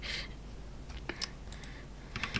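Keys tapped on a computer keyboard while entering a search for a mod loader, a few quick clustered clicks close by over a low steady background hum.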